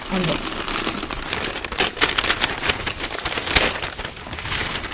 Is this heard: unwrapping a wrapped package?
yes